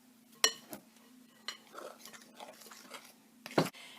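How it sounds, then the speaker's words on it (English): Banana muffin batter is mixed in a bowl, with a few sharp clinks of utensil against the bowl and soft wet stirring between them, close and quiet over a faint steady hum. "See as we mix it in."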